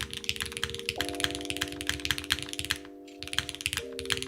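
Rapid, continuous clacking of a Haven60 mechanical keyboard, keys struck in quick irregular bursts with a brief pause, over a sustained musical tone.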